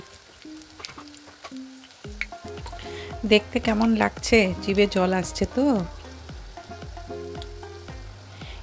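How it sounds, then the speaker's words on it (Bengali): Banana pepper fritters crackle as they fry in oil, a steady low sizzle running under a woman's speech and soft music. "এবার অপর দিকটা উল্টে দিচ্ছি ভাজা হওয়ার জন্য"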